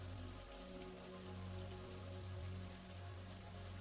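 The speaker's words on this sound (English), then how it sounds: "your mind begins to absorb just how many drops of rain it hears cascading around you." Steady rain falling on an open field, a dense continuous patter of countless drops close around, even and unbroken throughout with no voices.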